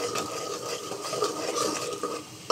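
Spice paste frying in a pan for a fish biryani, a steady close sizzle with faint stirring scrapes over about two and a half seconds and a sharper clink at the end.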